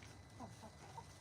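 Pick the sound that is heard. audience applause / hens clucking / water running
hens clucking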